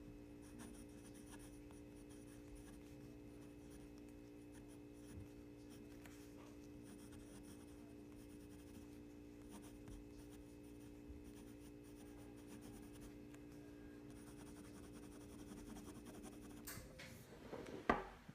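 A Retro 51 Slim Tornado ballpoint pen with an Easy Flow 9000 refill writes on paper, producing soft, close scratchy strokes over a faint steady hum, ending in a louder rustle near the end.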